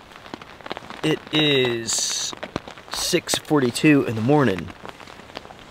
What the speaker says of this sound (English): Still raining outside.